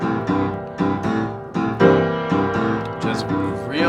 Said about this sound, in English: This is a standard way to accompany a blues shuffle.